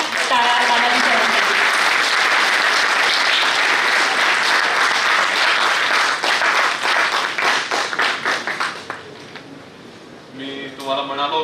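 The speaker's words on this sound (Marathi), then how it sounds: "अजून एकदा प्लीज जोरदार टाळ्या वाजवा." An audience at a medical anaesthesia workshop in Aurangabad applauds loudly, a dense sustained burst of clapping that thins into scattered claps near the end, with voices briefly heard afterward.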